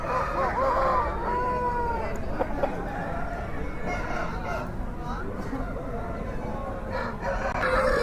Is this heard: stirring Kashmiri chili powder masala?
no